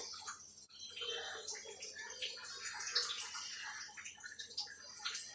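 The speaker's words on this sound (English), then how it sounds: "I'll pour the hot water, boiling hot water." Boiling hot water poured into a filter coffee percolator over heaped coffee grounds in a home kitchen, a soft continuous trickling and splashing that stays fairly faint throughout.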